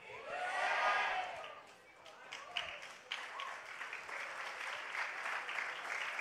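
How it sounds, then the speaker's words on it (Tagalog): A church congregation gives a burst of applause that swells and then fades, with scattered claps continuing while a pastor keeps preaching. "pumapalakpak lang kayo"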